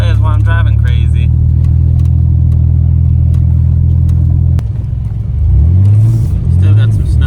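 A car drives on snowy Texas roads, its engine droning steadily and close, then dropping and revving up again, while people talk over it.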